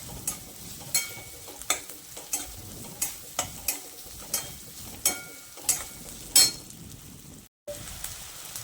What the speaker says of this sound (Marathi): तेल सुटूपर्यंत भाजायचं जरासं